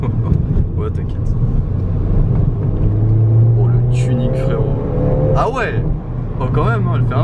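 A Ford Fiesta ST 185 hp engine drones and rises in pitch as the car accelerates, a steady loud rumble heard from inside the cabin, with occupants talking over it.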